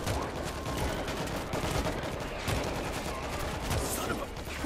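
Rapid gunfire from a World War Z co-op shooter game session in New York, dense and continuous volleys of shots filling the whole stretch, loud and close, with no clear talk over it.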